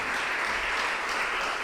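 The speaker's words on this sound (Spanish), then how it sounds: "Den un aplauso al Señor." A church congregation breaks into warm, sustained applause, a dense wash of clapping from many hands that holds steady throughout.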